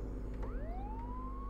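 Police car siren from the border-patrol game Contraband Police, a wailing tone that sweeps upward and holds high over a steady low engine rumble, close and loud.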